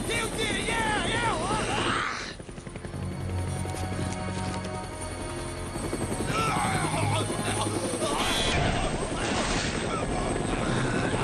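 A helicopter in the zombie video game Dead Rising keeps up a steady rotor thrum through the whole stretch, heard under ongoing speech and other game sounds.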